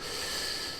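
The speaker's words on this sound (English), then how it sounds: "he's now doing some kind of drilling" A neighbour drilling outside the house, a steady whiny drone heard through the window, continuous and fairly faint, with no talk over it.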